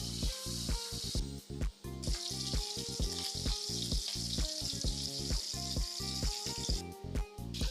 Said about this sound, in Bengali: এই তো মাছগুলো ভাজা হয়ে গেছে